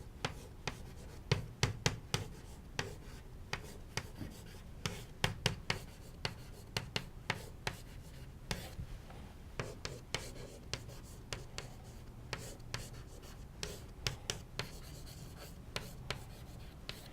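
Chalk or marker tapping and scratching on a board as a physics lecturer writes out equations, a quiet irregular run of sharp strokes and taps with short pauses and no talking.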